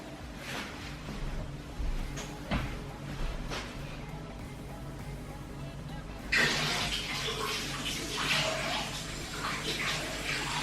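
Tap water runs into a sink while slime is washed out to remove excess liquid detergent, with quieter handling and splashing at first and then a louder, steady gush of running water.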